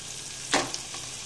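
Chopped vegetables for masale bhat drop into a hot pan and give one short, fairly loud hiss, settling into a faint sizzle, with no talking.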